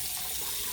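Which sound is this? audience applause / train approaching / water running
water running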